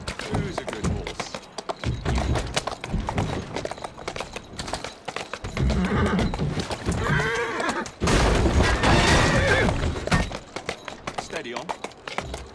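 A horse whinnies and its hooves clip-clop in Assassin's Creed Syndicate, set in Victorian London. The neighs and hoofbeats are moderately loud and close, with game music and a voice speaking over them.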